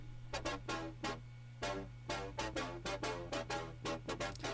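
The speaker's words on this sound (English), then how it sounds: "that dubstep airy metal bass" A dubstep-style airy metallic synth bass in a festival trap beat, a quiet series of short, rhythmic stabs over a steady low hum, with uneven gaps between the hits.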